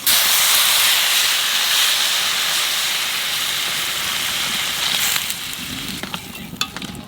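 Water poured into a hot wok of fish and spices sets off a loud, steamy hiss that gradually fades into a softer sizzle with a few stirring knocks.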